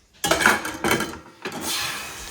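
Steel dishes and utensils are scrubbed and handled in a home kitchen, three distinct bursts of clattering and scraping about half a second apart, close by, the last one trailing into a longer rattle.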